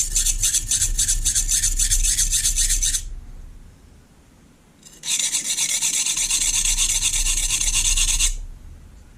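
A knife edge scraped across a coarse sharpening stone in two long bursts of rapid, gritty rasping strokes, close and loud, with a short pause between them.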